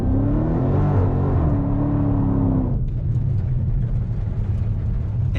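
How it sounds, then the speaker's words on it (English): A 2020 Dodge Challenger Scat Pack performs a launch-control burnout in a parking lot, its engine roaring loud and close with a high revving tone for a few seconds before dropping into a lower, rougher rumble. "I just like burned out here in these people parking lot"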